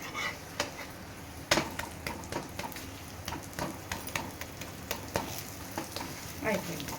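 Butter garlic paratha frying in oil and ghee on a pan, a steady close sizzle punctuated by frequent scraping and tapping of a spatula against the metal.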